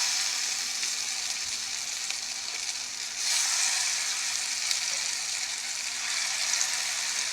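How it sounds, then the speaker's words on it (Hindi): Shami kababs, with egg mixed into the patties, fry in a pan with a steady, close sizzling hiss that holds evenly throughout, briefly swelling a little partway through. "अब हम इनको फ्राई करेंगे।"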